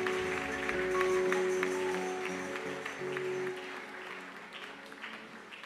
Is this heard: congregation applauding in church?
yes